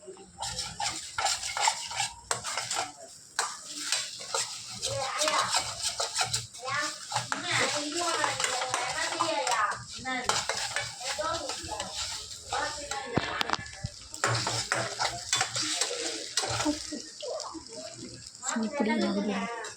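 Egg fried rice being stirred and scraped in a pan at a street food stall, with a steady clatter of metal utensil on the pan running throughout under a person talking.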